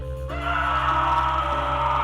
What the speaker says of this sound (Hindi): गाड़ी के अंदर एक भयानक चीख गूंज उठी।